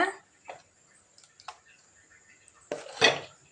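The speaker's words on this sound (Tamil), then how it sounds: "இப்போ மாவை நல்லா கலக்கி எடுத்துட்டு தோசை ஊற்றிக்கலாங்க." Rava dosa batter mixed in a vessel, heard as a few sparse ladle knocks and taps against the rim followed by a louder burst of clattering, scraping strokes near the end, close and fairly faint.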